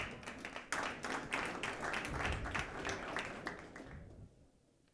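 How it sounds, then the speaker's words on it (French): An audience at a territorial focus event in Morocco applauds as a secretary general and CEO is welcomed onto the stage, with steady clapping that swells, then thins and fades out over a few seconds. "Je vous invite à l'applaudir."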